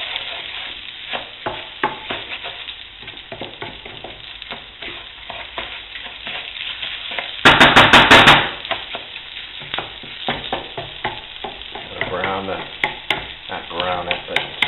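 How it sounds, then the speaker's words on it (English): Rice stirred with a garlic and tomato mixture in a hot pan, a steady close sizzle broken by repeated scraping strokes of the spoon, with one louder burst of frying partway through. "And I'm going to mix this all up, coat the rice and all this lovely garlic and tomato mixture."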